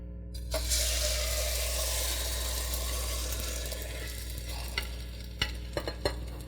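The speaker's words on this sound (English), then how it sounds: "And then we are flipping the omelet. And bring it back into the pan." A Spanish omelet sizzles steadily in a frying pan on high heat just after being flipped, a close, continuous hiss with a few sharp clinks near the end.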